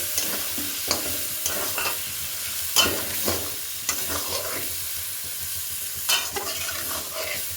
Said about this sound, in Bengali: এরপরে যে মটরশুঁটি ছিল সেটা বেটে এই মশলার মধ্যে দিয়ে দেবো। এরপরে এটাকে ভালো করে কষে নেব।